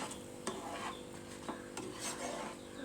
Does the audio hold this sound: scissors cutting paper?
no